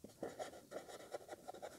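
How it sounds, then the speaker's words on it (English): Pen or marker writing out a Lagrange multiplier equation, a quiet run of short scratchy strokes in a steady broken rhythm, close by and alone with no talk. "So I will write"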